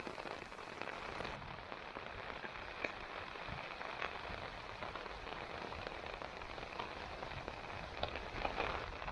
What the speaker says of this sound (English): Oh yeah, that's a good little rainstorm there.